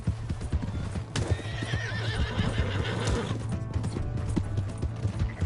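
In the Red Dead Redemption 2 video game, a horse whinnies loudly while its hooves clip-clop steadily and close throughout, over a low rumbling background.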